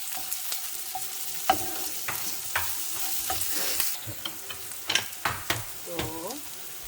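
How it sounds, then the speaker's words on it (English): Onions with garlic and green chilli sauté in a hot pan, a soft steady sizzle broken by scraping stirs and light spatula clinks, quiet and close with no talking. "Cook saute onions for around 5 minutes."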